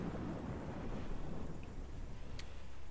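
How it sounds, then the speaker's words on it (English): In Metroid Prime, rain hisses softly and steadily while low rumbles of thunder roll underneath, all fairly faint and distant. "It's raining."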